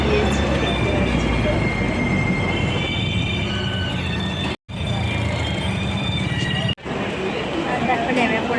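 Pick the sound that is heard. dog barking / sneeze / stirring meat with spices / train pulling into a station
train pulling into a station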